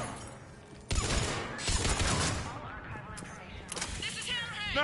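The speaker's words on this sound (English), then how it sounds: "What are you shooting at?" Video game gunfire from Mass Effect 3, with sustained bursts of shots and explosive impacts over dense background combat noise, with voices mixed in.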